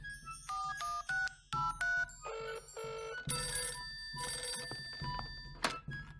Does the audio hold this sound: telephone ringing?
yes